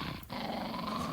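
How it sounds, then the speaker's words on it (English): A dog growls low and steadily for about a second in a radio drama, close and fairly quiet, with a brief break near the start. "We found the dog that got Harris"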